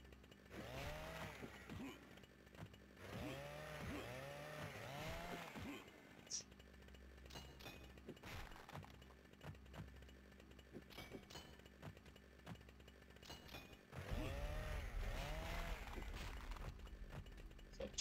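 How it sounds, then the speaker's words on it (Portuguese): Chainsaw in the Nightmare Creatures 2 video game revving in repeated rising-and-falling bursts, loud at the start and again near the end, with quieter game sounds and scattered thuds between. "Tirar esse motosserra dele aí, que ele já era."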